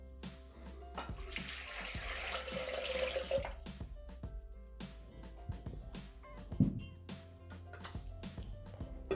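Water poured from a vessel into the mixing bowl of a Thermomix (Bimby) with sugar already inside, a steady splashing trickle mixed with scattered clinks and knocks in a quiet kitchen.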